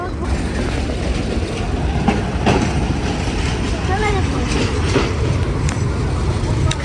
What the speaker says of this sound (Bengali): তুমি বসে আছো ট্রেন তোমার পিছন দিক দিয়ে গেল